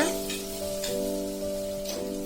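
Ginger sautéing in a pan for upma gives a steady, soft sizzle and crackle, with faint scraping taps from stirring now and then and a constant low hum under it all.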